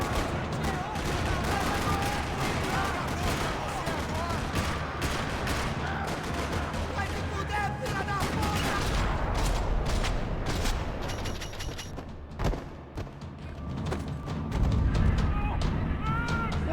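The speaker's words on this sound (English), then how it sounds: "Another parking lot rattling with gunfire." Dense, continuous video game gunfire in a parking lot in Max Payne 3 rattles and crackles for a long stretch, with bursts and booms layered over a busy, noisy background.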